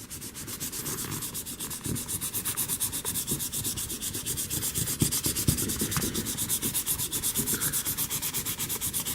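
A plastic G.I. Joe Skystriker model canopy is scrubbed with fine abrasive, giving a steady rhythmic back-and-forth rasping, close and even, with no voices.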